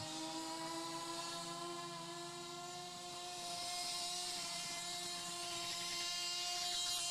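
A racing boat engine fires up at a USTS-NBRA boat race in Jacksonville, Illinois, a faint, distant droning whine with steady harmonic tones that swells slightly toward the end.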